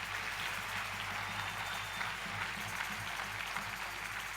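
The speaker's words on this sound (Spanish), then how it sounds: "Denle un aplauso al Espíritu Santo de Dios." A church congregation applauds, a quiet, distant, even patter of many hands clapping that continues throughout over a low hum.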